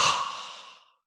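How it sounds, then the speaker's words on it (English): A deep open-mouthed exhale during a live vinyasa yoga session, a long breathy rush that starts strong and fades steadily to silence, heard alone and close. "breathe in through the nostrils, then open your mouth to exhale"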